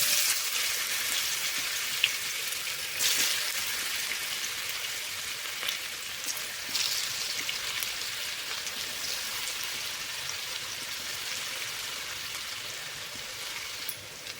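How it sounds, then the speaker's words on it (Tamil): Seasoned raw plantain pieces deep-fry in hot oil, making a dense, rain-like crackle of bubbling and spitting that holds steady and moderately quiet, with a brief louder burst early on. "இப்போது கலந்து வச்சுருக்கிற வாழைக்காயை நம்ம எண்ணெயில் போட்டு பொரிச்சு எடுத்துக்கலாம்."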